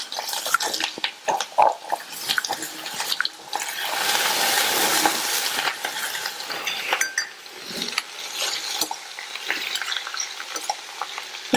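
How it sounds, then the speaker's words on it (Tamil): Diced yellow pumpkin tumbles into hot oil already seasoned with dried chillies and curry leaves, followed by a steady sizzle and repeated scraping stirs of a spoon against the pan, close and moderately loud. "இதுல கட் பண்ணி வச்ச மஞ்சள் பூசணியை சேர்த்துக்கலாம்."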